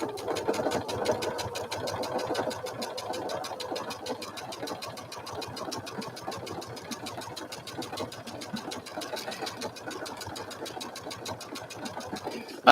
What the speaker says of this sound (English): It was stitching awfully quietly because it had no bobbin thread left.